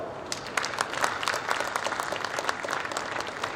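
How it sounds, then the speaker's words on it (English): Audience applause at a business export forum, a steady patter of many hands clapping close by for several seconds, with no talk over it. "Do I have a clap?"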